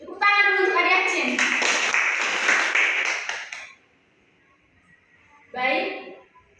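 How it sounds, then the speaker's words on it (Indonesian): Classroom applause for a student during a micro-teaching maths lesson: a burst of clapping with voices over it for about three seconds, then quiet, then a brief spoken phrase. "Jadi jawabannya adalah tepuk tangan dulu untuk adik Acin."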